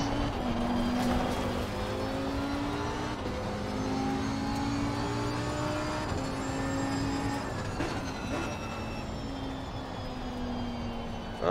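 A race car laps Paul Ricard in Assetto Corsa Competizione, its engine droning steadily and rising and falling in pitch through gear changes and revs, loud and continuous without speech.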